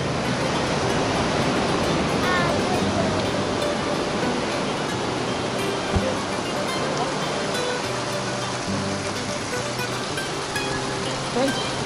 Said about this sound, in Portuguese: a cascata das cobras ou da Praia da Amália. É a água que vem.